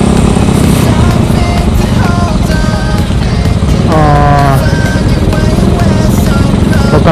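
A clutch-modified Honda Supra Legend motorcycle engine runs nearby on a night street ride, a loud steady drone mixed with passing traffic and wind, with a rising engine whine midway.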